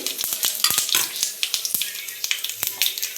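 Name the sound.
mustard and cumin seeds sizzling in hot oil for tempering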